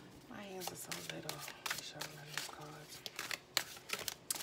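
A deck of playing cards is shuffled smoothly by hand, with quick crisp riffling bursts repeating close by under a voice and a soft tonal background.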